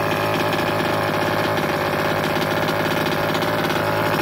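Nitro engine of a Super Bee Killer RC car running steady heat cycles, a loud continuous buzzing drone with fast even pulsing, close by and alone throughout.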